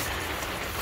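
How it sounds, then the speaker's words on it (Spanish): Heavy rain pours down outside onto a flooding street, a steady, dense hiss with no break and no other sounds over it. "como está lloviendo tantísimo"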